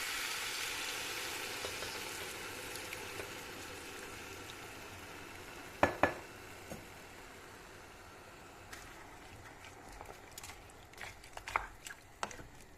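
Meat, chickpea and okra stew simmering on low heat after water is added, a faint steady bubbling with a few soft clicks and knocks of the pot.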